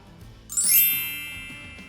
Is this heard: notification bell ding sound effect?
yes